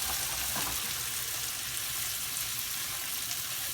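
Fresh corn off the stalk sizzles in bacon oil with a soft, constant hiss that stays steady and fairly faint throughout.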